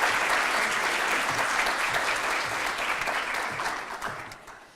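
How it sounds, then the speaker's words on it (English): Audience applause at a university education awards ceremony, a full sustained clatter of many hands in a hall that gradually fades toward the end. "So please, we'll send them the applause."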